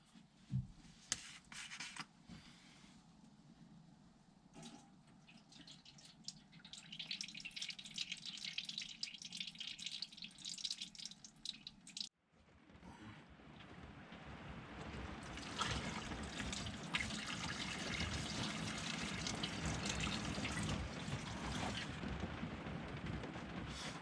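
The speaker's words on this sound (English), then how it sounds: "You've got a little drip from the fuel tap area." Liquid dripping and trickling from a motorcycle fuel tank tap area during Rostio rust treatment on a ZX10 restoration, with scattered drips at first, then a louder, steadier splashing trickle after a brief pause.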